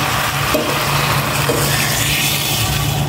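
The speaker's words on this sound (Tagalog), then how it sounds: "Magdadagdag na ako ng tubig." Water pours steadily into a cooking pot, a continuous close rushing and bubbling sound with no voices over it.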